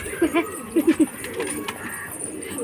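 A handful of soft, low pigeon coos come in two short bunches while the birds peck at scattered grain, close by, with a quiet voice and background noise underneath.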